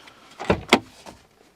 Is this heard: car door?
yes